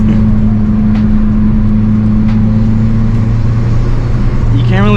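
Stage 2 turbocharged Mazdaspeed 3 driven on a bumpy road, a loud steady engine drone heard from inside the cabin with a rising whistle near the end.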